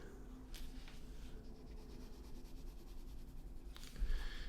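Pencil strokes rasp across paper in a steady, close scratching rhythm while perspective lines of a neighborhood house are sharpened, ending with a brief louder scrape.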